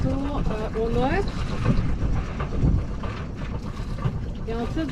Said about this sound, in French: Je vais mettre mon bateau au neutre.